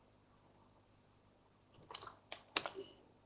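Typing on a computer keyboard in a pharmacy: quiet and sparse at first, then a close cluster of quick key clicks toward the end.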